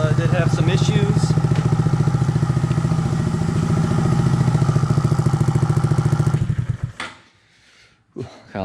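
A Honda Monkey motorcycle engine with a newly installed oil cooler runs loud and close at a steady, throbbing idle for several seconds before cutting off, followed by brief clunks and near silence.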